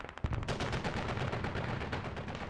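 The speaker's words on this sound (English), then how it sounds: "We got a BMP2 firing off." A BMP-2 infantry fighting vehicle fires in a video game battle on the Kokan map, a rapid, continuous stream of heavy booming shots with a deep thump at the start, loud and sustained.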